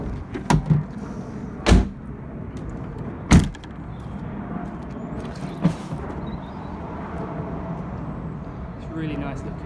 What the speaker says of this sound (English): just shut these doors